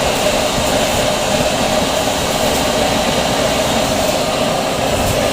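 A waste oil stove burner roars with its blower set at half, giving a loud, steady, unbroken rushing drone of air and flame.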